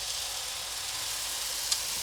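Oil heating in a frying pan for pancakes gives a steady, soft sizzling hiss throughout, with one brief tick near the end and no voices.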